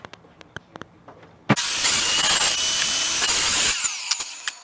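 A table saw cutting wood pieces on a crosscut sled, a few soft clicks and knocks, then a loud whining saw rip lasting about two seconds that winds down into scattered knocks.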